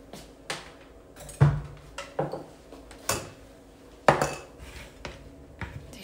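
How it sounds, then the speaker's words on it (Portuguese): A blender is shifted and set down on a kitchen counter, with a series of sharp knocks and clatters at irregular intervals, close and fairly loud, with no talking. "Deixa eu tirar esse liquidificador aqui,"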